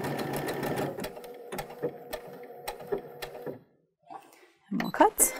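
Baby Lock Brilliant sewing machine stitching a satin stitch, a rapid mechanical whirring with several short bursts and sharp clicks, stopping near the end before a few louder clunks.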